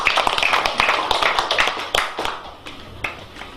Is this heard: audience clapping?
yes